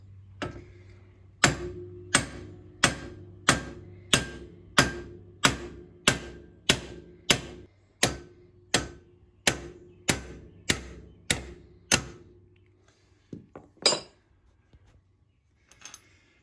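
A 2.5-pound hammer taps out a front wheel stud on a 2010 Polaris RZR 800 UTV with about fifteen evenly spaced sharp metallic knocks, followed by a few lighter clinks and then quiet.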